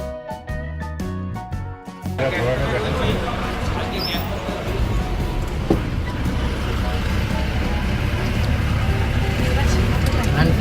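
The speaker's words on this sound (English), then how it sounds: "So the car is finally taking off." A car pulls away and drives along a mountain road from Gangtok toward Lachung, a steady engine and road rumble that builds in after a quieter start and holds loud and continuous, with some speech mixed in.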